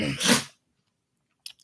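A single loud, close sneeze bursts out at the start, then silence follows and a brief faint rustle closes the moment.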